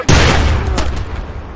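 A loud explosion and rattling gunfire from the military shooter SOCOM U.S. Navy SEALs Fireteam Bravo 3 strike near and heavy at the start, then trail off into a long decaying rumble with scattered shots.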